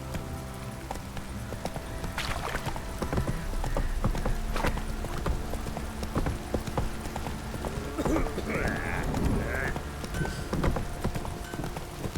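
Roach, Geralt's horse in The Witcher 3, gallops with steady rapid hoofbeats, close and continuous, mixed with game ambience and occasional creaks.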